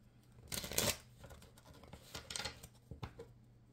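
Tarot cards being shuffled by hand in several bursts of papery riffling and scraping, with a strong rush near the start and shorter, softer shuffles following, close and fairly quiet.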